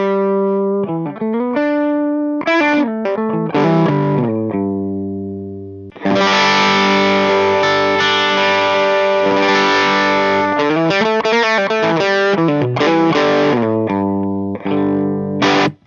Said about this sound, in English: Here's the different sounds you can get using the tone knob.